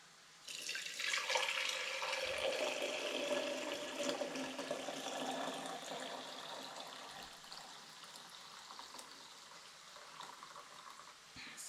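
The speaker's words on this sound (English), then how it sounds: "now I'm going to drain it and keep the water for tea" Boiled stinging nettle water pours out in a steady splashing stream as it is drained from the pot and kept for tea, a continuous rushing that slowly eases off, with no talking.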